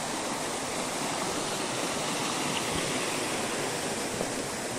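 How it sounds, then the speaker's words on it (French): Steady, full roar of a waterfall on a mountain trail, a dense rushing wash of falling water holding even and close throughout with no voices over it. "Cette cascade là."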